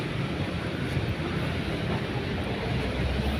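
An LRT light rail train passes nearby, a loud, steady, broad rumble that holds evenly for several seconds with no voices over it.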